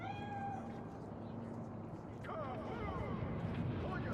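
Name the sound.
cat meowing in the video game Cyberpunk 2077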